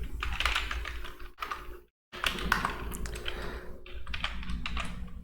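Rapid typing on a computer keyboard while entering bank cash deposit entries in Tally Prime accounting software, a near, continuous patter of key taps with a brief silent gap partway through.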